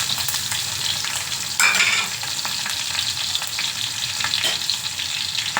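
Chopped onion and green chilli frying in a pan over mustard seeds and cumin, a close, continuous crackling sizzle that surges briefly partway through, with no voices.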